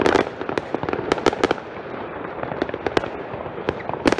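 New Year fireworks outdoors, a dense run of sharp bangs and crackling bursts at varied distances over a steady rumbling wash, with louder pops clustered near the start and end.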